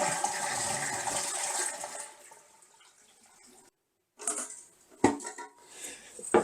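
A bathroom toilet is flushed to drain its water before replacement: a loud rushing gurgle fades over a couple of seconds, then, after a pause, scraping and splashing bursts follow close by.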